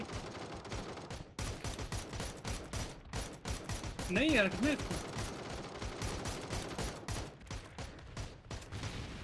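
Gunfire in a video game, rapid repeated shots and fusillades crackling almost continuously, with a short rising tone partway through and players talking over the shooting.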